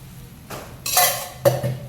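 Metal utensil scrapes and clinks against a pan in a few short bursts while stirring a green coconut barfi mixture with ghee, with quiet gaps between the stirring strokes.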